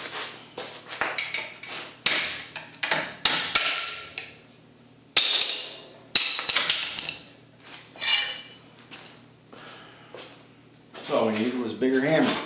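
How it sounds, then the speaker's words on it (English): A hammer striking metal while an air compressor motor is mounted, with irregular sharp clanks and taps spread through the workshop space, mixed with clattering of tools and a voice talking. "All we needed was a bigger hammer."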